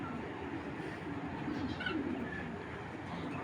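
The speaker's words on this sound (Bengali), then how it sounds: "একদম অরিজিনাল র বিডের বেজি কবুতর" Original-breed Bezi pigeons coo softly and steadily in a low, murmuring drone against a noisy background, with no clear break between calls.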